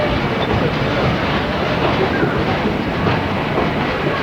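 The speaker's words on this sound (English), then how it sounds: "Smoky Mountain Railway." A Great Smoky Mountains Railway train runs steadily along the tracks, a loud, continuous rumble with a dense clickety-clack of wheels heard close up, with no voices.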